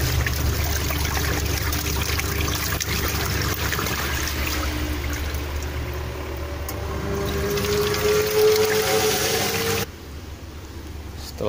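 A single-tub manual washing machine running its first rinse, water churning and sloshing steadily with a continuous motor hum, cutting off abruptly near the end.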